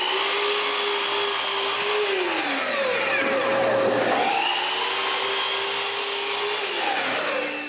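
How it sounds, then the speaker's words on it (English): A power saw cuts thick cedar bottom planks for a clothespin box, a loud continuous whining buzz with its pitch sagging under load around mid-cut and recovering, running steadily throughout with no talking. "measure the length of the bottom planks and cut them."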